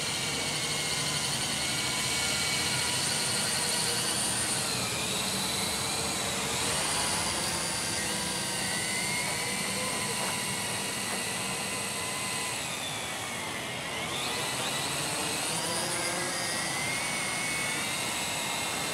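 A small drone flies on its first flight, its propeller motors making a continuous high-pitched buzzing whine that swells and dips in pitch as the thrust changes while it turns, loud and steady throughout.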